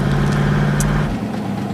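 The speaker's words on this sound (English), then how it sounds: "The car has stopped." A car idles with a steady low engine rumble, then the engine note drops away as it comes to a stop, with a faint brief hiss in the middle.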